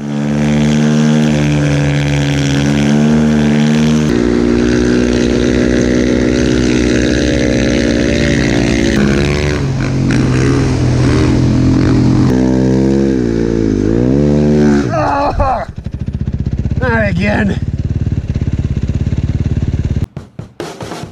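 Snowbike engine pulling away and riding off on a mountain trail, a loud sustained motor drone that rises and shifts in pitch as it revs and accelerates, then drops off near the end.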